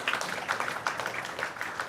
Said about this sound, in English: Maybe give them a round of applause for the work they're doing.